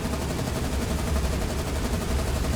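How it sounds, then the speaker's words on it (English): Dense, continuous battle noise from a naval fight in the War on the Sea game, with rapid overlapping gunfire and booming explosions rolling together at a steady high level for the whole span, no talk. "Look at all of those explosions."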